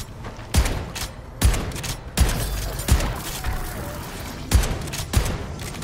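Shotgun blasts in Call of Duty MW3 Zombies, about seven heavy booming shots fired at uneven intervals roughly a second apart, each with a short rumbling tail under game noise.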